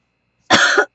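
A man gives a single short, sharp cough, close and loud, standing alone against silence.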